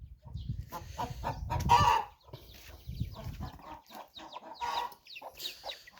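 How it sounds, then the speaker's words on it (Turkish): Hens clucking and squawking close by, a busy run of overlapping calls with one louder burst early on, no talking. "O'zi chiroyli tavuk edi bu."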